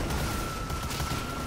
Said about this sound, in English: Very showy artillery.